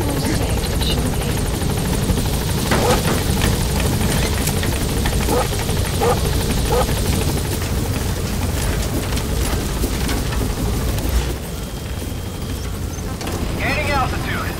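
A helicopter in the video game Metal Gear Solid V drones steadily at loud, constant volume, its rotor roar filling the whole stretch, with faint game sounds layered over it.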